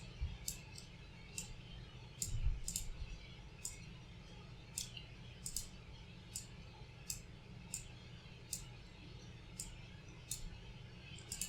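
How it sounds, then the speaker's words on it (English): Computer mouse clicks at a steady, irregular pace while shape points are edited in Scratch, quiet and close over a low background hum. "You can see I'm clicking on the inside and outside of the shape."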